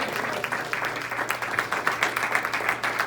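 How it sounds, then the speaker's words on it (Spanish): A church congregation at a Sunday morning service claps in a lively, fairly rhythmic wave of applause that builds slightly, with faint voices mixed underneath. "Denle un aplauso al Señor en esta mañana."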